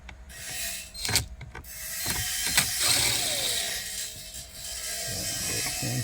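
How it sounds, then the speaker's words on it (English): A ratchet clicks close by as screws come out of the silver radio trim in a 2019 Honda Ridgeline interior, in short bursts mixed with rubbing and handling noises. "next thing is we're gonna remove the screws on that silver trim"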